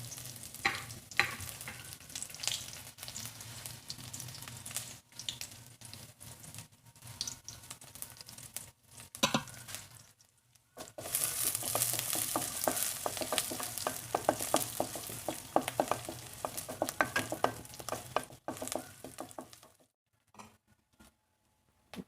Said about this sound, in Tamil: கடுகு பொரிஞ்சதுக்கப்புறம் பெரிய வெங்காயம் ஒரு 2 வரமிளகா சேர்த்து அதை தாளித்து விட்டுக்கலாம்.